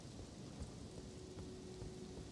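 Steady rain and low rumbling thunder in the Elden Ring video game, a dense continuous wash of rainfall with deep rolling booms underneath, no voices.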